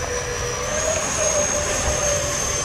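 An FMS Futura V3 80mm electric ducted-fan RC jet roars steadily at full power during takeoff, a loud continuous whine with a high-pitched tonal edge, close and unbroken throughout.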